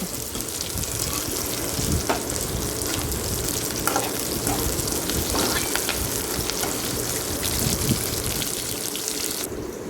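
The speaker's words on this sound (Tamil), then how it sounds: "இது நல்லா பொன்னிறமாக வதங்கணும்" Spices tempering in hot oil for a mixed vegetable kadamba sambar, frying until golden; a steady, close, dense sizzle and crackle runs unbroken throughout with no talking.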